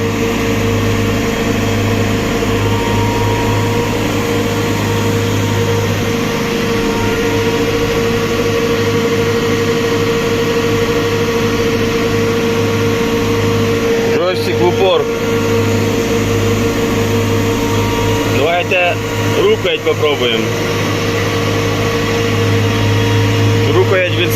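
A JCB 3CX Contractor backhoe engine holds a steady 1500 rpm, its loud, continuous drone unbroken for the whole stretch, with a few brief higher chirps near the end.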